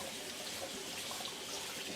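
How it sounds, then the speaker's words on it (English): Cool tap water runs over drained boiled potatoes in a kitchen for duck fat skillet potatoes, a steady close splashing hiss with no voices. "I'm just going to run a little bit of cool water over them"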